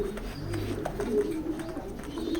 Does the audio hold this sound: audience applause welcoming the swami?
no